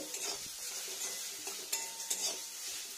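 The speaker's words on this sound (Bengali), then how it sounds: "এবার কন্টিনিউ এখানে নাড়া দিয়ে নেবো" Pumpkin greens get stirred while frying in a pan after the heat is switched off: soft sizzle underneath with several sharp spatula scrapes and knocks against the pan, close and fairly quiet.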